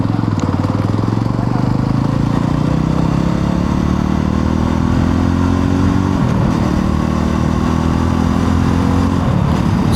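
A 2026 Yezdi Roadster motorcycle being ridden, its engine droning loud and close with rising pitch as it accelerates, a brief dip and gear change midway, and steady wind rush over the top.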